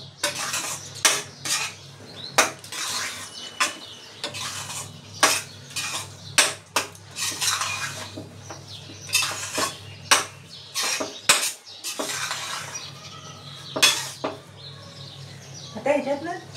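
A spoon scrapes and clanks repeatedly against a pan while rava sheera, a Marathi semolina sweet made with jaggery, is stirred, making rapid metallic taps over a low steady hum and faint background chatter.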